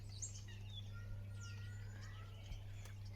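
Birds singing continuously outdoors: scattered chirps and whistled calls, some fairly near and others farther off, over a steady low hum with no talking.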